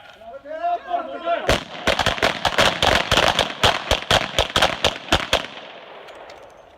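Revolver shots fired at a shooting drill on a range: a rapid string of about a dozen sharp, loud reports after a brief spoken command, ending with quiet ringing.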